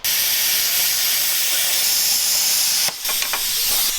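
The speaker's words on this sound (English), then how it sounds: "I'm gonna use the plasma and just get it cut off" A plasma cutter slices off a steel bracket on a Jeep with a loud, steady hiss of rushing air and arc, holding constant before a brief break and sputtering restart near the end.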